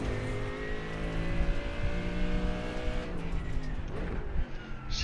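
GT3 race car engine in a racing simulator on the Daytona road course, revving hard and steadily climbing through the gears, loud and close with a continuous droning tone, plus a brief tire scrub near the end.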